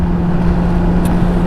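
A motorcycle engine runs at a steady idle as picked up by a small external microphone, giving a continuous low droning hum with no variation in pace and no voices.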